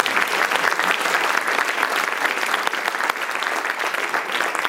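A crowd at an evening public political meeting in Neuilly-sur-Seine applauds the mayor, dense sustained clapping that stays loud and even throughout, with no one speaking over it.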